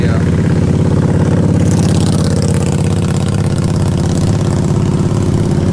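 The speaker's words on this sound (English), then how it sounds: "There's a guy riding a motorcycle" A motorcycle engine rumbles steadily nearby as it rides past outdoors near a lake, loud and continuous, with someone talking over it.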